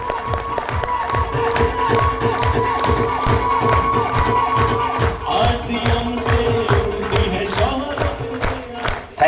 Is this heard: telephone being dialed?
no